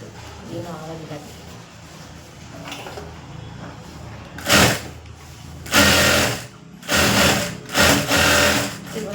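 A sewing machine stitches a blouse in several short, loud bursts close by, each run a few seconds long with brief pauses, following a quieter stretch of handling noise.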